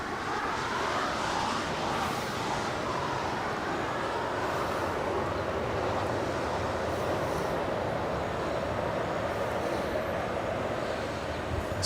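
An Alaska Airlines Boeing 737-900ER jet roars steadily with a broad, continuous engine rumble as it departs Los Angeles International Airport, the sound holding at an even, moderately distant level throughout with no talking.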